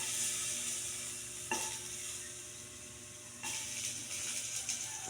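Fatty pork with garlic sizzling in a little oil for pork binagoongan, a steady close frying hiss broken by two sharp stirring scrapes.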